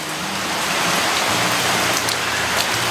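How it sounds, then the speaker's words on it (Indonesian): Rain falls steadily on a street in Jakarta, a dense continuous patter that stays even and fairly close throughout, with no voices. "Hujan-hujan."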